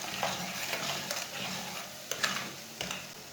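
Spices for aloo matar fry in a pan over low heat, giving a soft, steady sizzle with scraping stirring strokes and occasional clinks of a utensil, close and fairly quiet.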